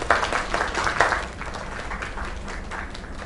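Applause in the video game Lake: a burst of crowd clapping that is strongest in the first second or so, then settles into steadier, softer clapping that fades slightly toward the end.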